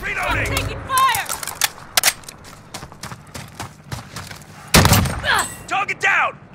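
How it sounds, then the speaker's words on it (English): Gunfire in Call of Duty Warzone crackles in quick bursts and single sharp shots, loud and close, with heavier blasts near the start and middle while game voices call out over the fighting. "I'm taking fire!"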